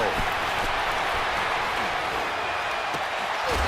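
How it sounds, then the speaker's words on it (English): Crowd roar inside a domed stadium in an American football video game, a dense, continuous wash of cheering at steady loudness with faint commentary mixed underneath. "The crowd here in the Dome making things difficult."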